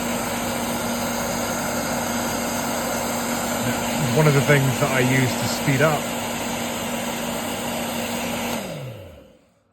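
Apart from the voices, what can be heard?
hairdryer on high setting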